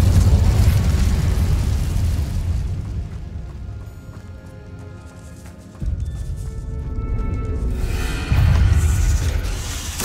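Fiery Incendio spell blasts in Hogwarts Legacy, a loud sustained rumbling roar with heavy low-end bursts that swell, dip, and surge again near the end, with no talking.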